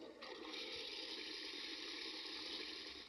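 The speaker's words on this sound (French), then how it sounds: "un appareil qui génère un son de chasse d'eau pendant 25 secondes" A Japanese Otohime toilet device plays a recorded flushing sound, a steady bright rush of running water that starts abruptly and holds evenly at close range, with no speech.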